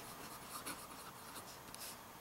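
A Sailor 1911 King of Pen fountain pen with a medium nib writes on paper, a faint, steady, close scratching that continues throughout with light, uneven strokes.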